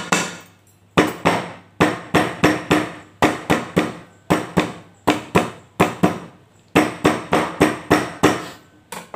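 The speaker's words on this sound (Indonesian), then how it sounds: "Serai kita geprek seperti ini aja." Lemongrass stalks smashed flat on a cutting board for an Indonesian yellow-spiced gourami dish, about twenty sharp, close thuds in uneven bursts with short pauses between groups and no talking.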